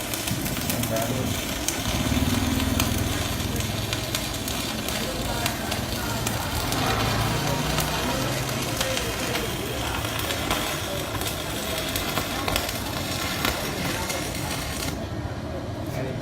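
An MMA 420 electronic stick welder burning 4 mm rods makes a continuous crackling sizzle throughout, steady and fairly close, with a voice heard at times.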